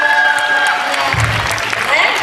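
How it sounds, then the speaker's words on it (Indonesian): Students and guests applaud at a school poetry event at a Jakarta high school, a short burst of clapping mixed with chatter and voices, fairly loud and close, with a tonal sound fading early on. "Tepuk tangan dong."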